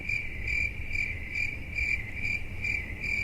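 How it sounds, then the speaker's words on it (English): Steady cricket chirping in short repeated pulses, a continuous high trill over a low background hum, with no voices. "Yeah, crickets."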